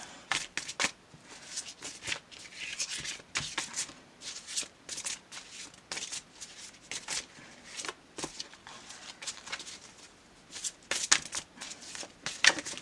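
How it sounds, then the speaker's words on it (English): Hexagon-shaped cards being shuffled by hand, a run of quick riffling and sliding bursts with short pauses between, close and fairly quiet. "These hexagons are a little bit harder to keep under control than the heart-shaped cards."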